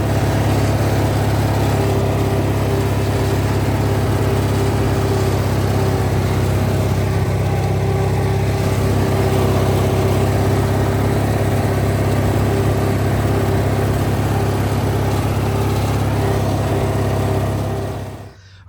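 A vintage rat rod riding lawn mower engine runs steadily and loudly at a constant idle-like drone for the whole stretch, a close single-cylinder hum with a faint whine, cutting off abruptly at the very end.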